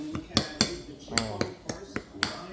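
A spoon mixes corn with condensed milk in a bowl, giving about eight crisp, evenly spaced clinks against the dish, close and moderately loud, with a short voice in between.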